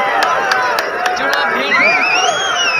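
A volleyball match crowd claps and cheers loudly, with a few sharp claps at the start and then a sustained swell of excited voices and whistles.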